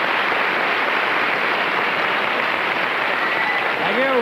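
Sustained audience applause, a dense steady roar of many hands clapping at full loudness throughout, with a voice briefly emerging at the very end.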